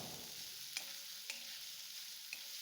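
Chopped onion frying in oil for a simple cabbage stir-fry, a soft, steady sizzle at low volume with a few light stirring clicks and taps of a spoon against the pan.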